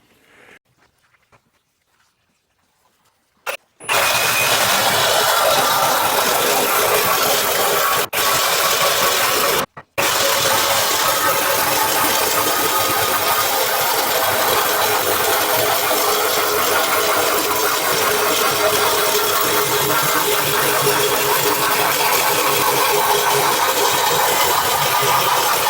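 A Harbor Freight belt sander being modified for more power runs steadily after a quiet start, a loud continuous motor roar with a brief cutout near the ten-second mark, no voices over it.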